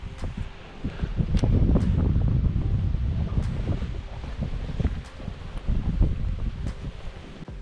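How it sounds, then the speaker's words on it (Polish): Strong autumn wind buffets a fishing boat and roars continuously across the microphone. Occasional knocks and creaks come through the gusts. "Ciężki wietrzny dzień, bardzo ciężki."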